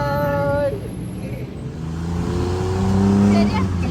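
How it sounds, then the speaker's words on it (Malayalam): A road vehicle engine drones close by, its low hum swelling steadily toward the end as it passes, with a person talking over the first part. "വണ്ടിയുടെ സൗണ്ട് കേട്ടാ."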